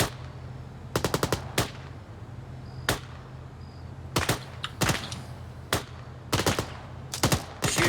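Gunfire in a military video game during joint infantry operations: sharp, loud single shots and short rapid bursts crack out at irregular intervals over a low steady hum, with no talking.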